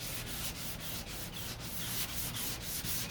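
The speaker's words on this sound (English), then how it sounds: "just sanding down this door" A fiberglass door on a 1969 C3 Corvette being sanded by hand, a close, steady, scratchy rasp with regular back-and-forth strokes roughly every quarter second.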